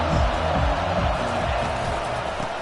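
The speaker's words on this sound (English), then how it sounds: "listen to this crowd roar" A dense, steady crowd roar at an American football game fills the whole clip, a loud wash of many voices with no single speaker standing out.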